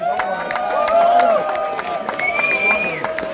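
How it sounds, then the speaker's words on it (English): A Dreamhack gaming festival crowd applauds and cheers, with steady clapping running under rising shouts and whoops that swell and fade across the hall. "A big round of applause for Caro."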